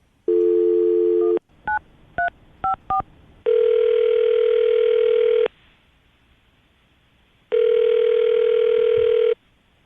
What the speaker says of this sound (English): All right, Kaylee, we're going to call him right now, see if we can get him on the phone